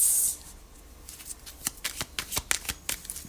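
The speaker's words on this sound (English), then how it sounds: "So I'm just shuffling your" Tarot cards being shuffled by hand during a reading, a close, crisp run of quick riffling snaps and flutters in an irregular rhythm.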